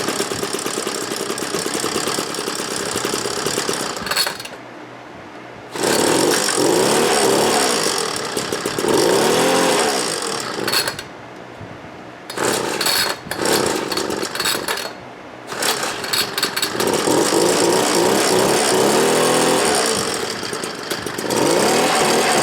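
Homelite ZR leaf blower two-stroke engine running loudly up close, revving and easing back with brief dips and pauses between bursts, no talking.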